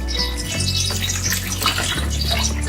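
Tap water running steadily into a sink while chicken gizzards are washed, a constant splashing stream with a few shifts in tone as the flow is disturbed, close and without talk.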